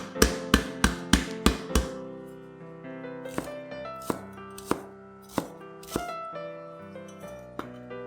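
A knife chops spring onion on a cutting board, first with five quick, evenly spaced loud knocks, then slower, scattered cuts, close up under soft background music.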